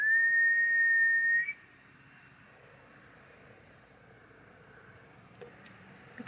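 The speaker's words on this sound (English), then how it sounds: "Point down there and whistle one more time." A person whistles outdoors at night, a single loud steady high tone lasting about a second and a half, then fading into a quiet low rumbling background with faint noises.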